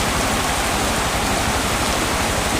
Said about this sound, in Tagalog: Yan, sobrang lakas ng ulan kung makikita nyo.